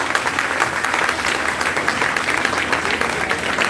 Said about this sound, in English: I give him a big round of applause